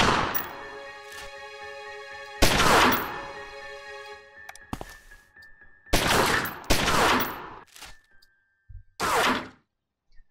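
Gunfire in the gangster video game Omerta: City of Gangsters, loud bursts of shots in separate volleys with heavy thuds and ringing tails, broken by short silences between the exchanges.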